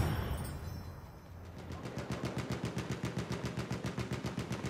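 Rapid automatic gunfire in the World War I shooter Battlefield 1, a steady burst of evenly spaced shots that follows a short stretch of rumbling battlefield noise, fairly close and with no voices over it.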